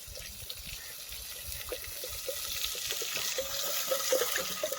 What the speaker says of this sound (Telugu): బగారా రైస్కి సరిపడా ఎసరు నీళ్ళు పోసేస్తున్నాను.